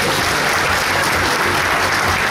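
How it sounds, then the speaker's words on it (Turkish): An audience at an awards ceremony gives loud, sustained applause, a thick continuous roar of many hands clapping at once with no pauses. "bir alkışlamanızı rica ediyorum"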